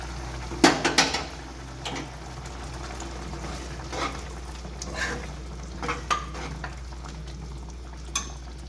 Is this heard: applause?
no